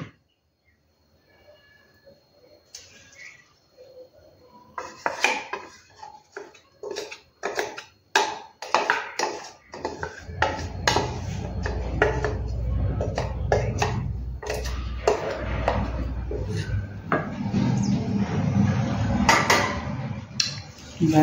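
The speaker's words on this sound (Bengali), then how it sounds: "এই দইটাকে আমি ঢেলে দেবো।" Yogurt is poured into a pan and mixed for dahi tadka. Scattered clinks of a utensil against the pan build into a denser, louder stretch of stirring and scraping that holds steady through the second half.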